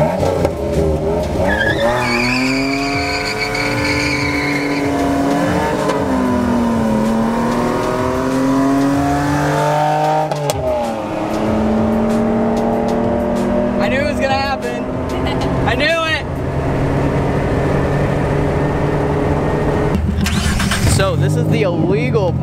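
A Mitsubishi 3000GT with aftermarket intake and exhaust revs hard and accelerates loudly during a street race in Mexico, engine pitch rising through several gear changes with brief tire squeals, close and dominant throughout.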